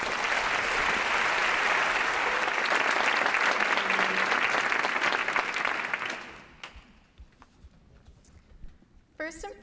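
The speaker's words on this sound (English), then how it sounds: "Big round of applause for Maddie." An evening audience at a student talk claps loudly and steadily for about six seconds. The applause then fades out, leaving a quieter room with a few scattered sounds.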